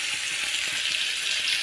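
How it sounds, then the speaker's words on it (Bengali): Chopped onions fry in hot oil with a dense, steady sizzle and crackle, close and continuous throughout the brief moment. "আমাদের যে পেঁয়াজ কাটাগুলো ছিল না, সেইগুলো এবার তেলের মধ্যে দিয়ে দেবো"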